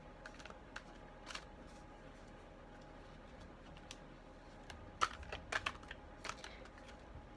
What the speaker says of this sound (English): I struggle with shuffling this one a little bit because the cards are so big.